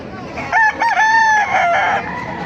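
A Lemon Sweater gamefowl rooster crows loudly and close, one drawn-out cock-a-doodle-doo with a rising, wavering call that trails off over faint background noise.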